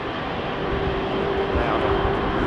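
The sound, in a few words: aircraft taking off at London Heathrow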